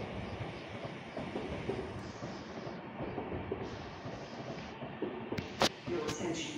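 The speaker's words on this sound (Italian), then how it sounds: "The train approaching on track 2. Please stand behind the yellow line." Train passing through a Rome station on track 2, a close, loud rumble and clatter of railcars rolling by continuously, with brief sharp squeals near the end.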